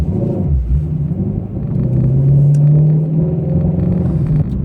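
A Ford Mustang GT350 fitted with a Pedal Commander in city mode accelerates hard, its engine rumble climbing steadily in pitch from near and loud, with no talk over it.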